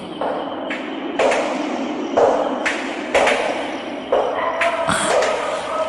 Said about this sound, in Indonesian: Langkah kaki.